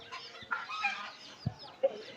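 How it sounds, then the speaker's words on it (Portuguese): A rooster and fowl at the Mercado da Madalena bird market in Recife give short clucks and brief crowing calls amid faint market background, fairly quiet and scattered. "Ó que galo grandão."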